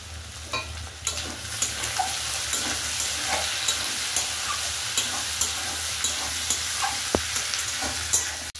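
Chopped tomato fries with bitter gourd and potato in a Bengali chachchari, a close, steady sizzle broken by regular stirring scrapes and taps from a spatula.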